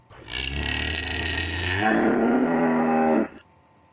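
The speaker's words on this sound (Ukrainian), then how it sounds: "Це широкорогий олень так кричить." One long, deep bellow from a moose, loud and droning, lasting a few seconds before cutting off, with no other sounds around it.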